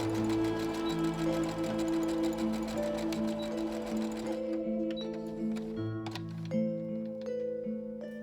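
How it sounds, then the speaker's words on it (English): Sewing machine stitching down elastic on a Halloween witch dress, a close, steady mechanical whir for about four seconds, then lighter stop-and-start stitching with clicks and ticks, no voices. "I stitched it down."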